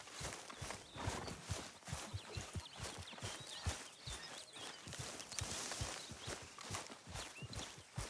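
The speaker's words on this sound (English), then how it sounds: "Hey, get that horse out of here." Horse hooves clip-clopping in the Red Dead Redemption 2 video game, a quick steady rhythm of many distinct hoof strikes, moderately close, against a quiet ambient background.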